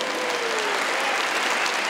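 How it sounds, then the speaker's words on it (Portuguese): A large church congregation applauds loudly and steadily, dense clapping filling the whole stretch without a break. "Eu queria um grande aplauso para os nossos sócios."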